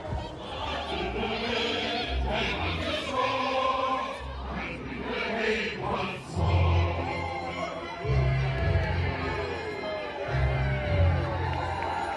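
A neighbourhood crowd cheers and whoops in broad, sustained noise with shouting voices rising and falling, joined by bursts of louder, deeper yelling toward the end.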